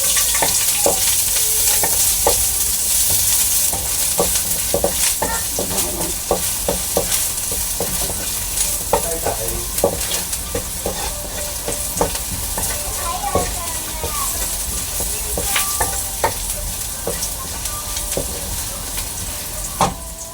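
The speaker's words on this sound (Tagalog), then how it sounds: "So, ito na yung aking kawali. Mainit na. Ilalagay ko ng aking bawang." Garlic dropped into a hot wok and fried for salmon fishcake fried rice, a loud continuous sizzle close by with frequent clicking scrapes of a spatula stirring against the pan throughout.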